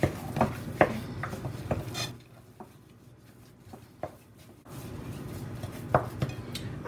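A spoon scrapes and clinks in a bowl as fish ball mixture is stirred together with fresh red pepper, in irregular bursts of rubbing and tapping with a short quieter pause in the middle.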